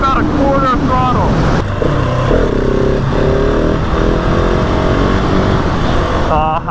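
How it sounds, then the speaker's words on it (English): A Husqvarna 701 single-cylinder motorcycle revs hard, with a sharp break as it quick shifts, then keeps pulling loudly up close through heavy wind buffeting, the engine tone rising and falling. "give it a little bit of a rip here, and I'll just quick shift it"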